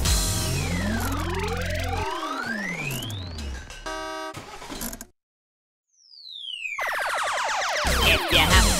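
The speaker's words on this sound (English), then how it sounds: "If you're happy and you know it, beep your horn." Cartoon vehicle horn beeps from a children's truck cartoon in a garage setting, loud sliding toots and bright electronic tones sweeping up and down, a short silent gap, then more rising horn tones, with no talk.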